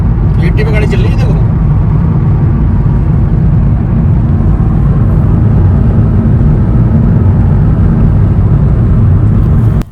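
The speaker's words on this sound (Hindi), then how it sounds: "80 पे गाड़ी चल रही है।" A car cruising at 80 on a foggy hill-station road gives a loud, steady low rumble of engine and tyres, with a brief rattle near the start.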